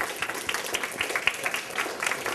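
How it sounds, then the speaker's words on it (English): A lecture audience applauds, a fairly faint, even patter of many hands clapping continuously through the short stretch, with no talking over it. "join me in giving them a round of applause"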